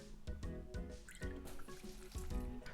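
Soy sauce poured into a marinade for Japanese marinated eggs, quiet, close glugging and dripping with small squishy splashes in an uneven rhythm.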